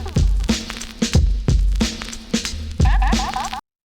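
A dusty boom bap drum loop with punchy kicks and snares in a swung, looping pattern, played loud and alone with crackly sampled texture and a short melodic flourish near the end.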